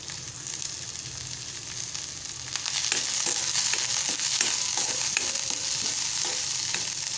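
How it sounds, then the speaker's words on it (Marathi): Onion and chillies sizzling and frying in hot oil in a pan, a steady close crackle that swells louder partway through as stirring adds clinks and scrapes. "तेल गरम झालेलं आहे। आता आपण कांदा घालूया। नंतर मिरच्या घालूया।"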